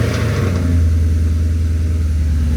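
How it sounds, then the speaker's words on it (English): Boosted Acura TL-S engine running right after a cold start, a loud, steady, low rumbling idle with a slight early rev, heard close and alone. "Let's get a cold start of this thing."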